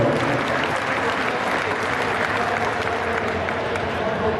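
A crowd at a market lamb livestock show claps steadily for the young exhibitors, dense even applause filling the space without a break.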